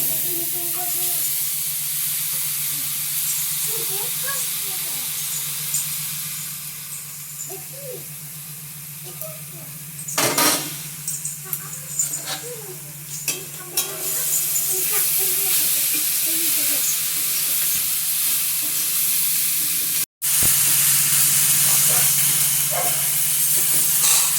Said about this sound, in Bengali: তো চলো এবার নারকেলগুলো ভেজে নিই